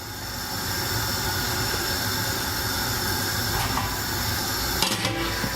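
Wort being brought to the boil for home beer brewing: a steady, broad hiss and rumble of heating liquid runs throughout, with a few brief clatters near the end.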